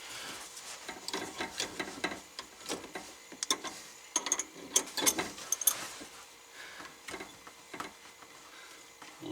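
An adjustable wrench works a nut under a kitchen faucet during installation, giving a run of irregular metallic clicks, ticks and scrapes at close range, busiest in the middle and thinning toward the end, with no talk.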